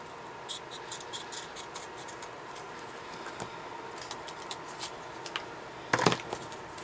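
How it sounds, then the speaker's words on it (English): A piece of card stock being trimmed for a mini album, faint scratchy cutting strokes in quick bursts, ending in a louder rough tearing swipe near the end. "So now I'm just going to trim this piece off."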